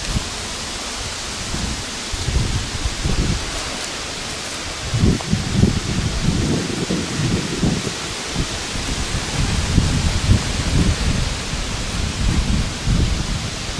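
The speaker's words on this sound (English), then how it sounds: "Wind is picking up." Wind picking up outdoors in unsettled weather before rain, a dense continuous rushing roar with low gusty surges that swell and fade, loud and close to the microphone.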